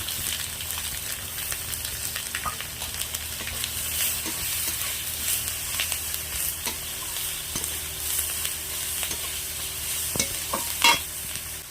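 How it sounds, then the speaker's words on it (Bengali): Chopped onion fries in hot oil in a wok with whole cumin and Bengali five-spice seeds. A loud, continuous sizzle runs throughout, broken by scattered clicks and scrapes of stirring, with no talking. "কড়াইতে দেবো 5 ফোড়ন, গোটা জিরে, এবার দিয়ে দেবো পেঁয়াজ কুচনো"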